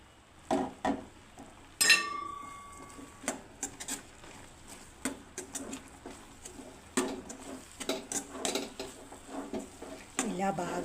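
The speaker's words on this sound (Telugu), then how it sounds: "ఇప్పుడు ఇందులోనికి రవ్వను కలిపేసుకుందాం." A spoon stirring semolina into sugar syrup for rava laddu, giving scattered scraping and clinking strokes against a metal vessel, with one sharp ringing clink early on, close and fairly quiet.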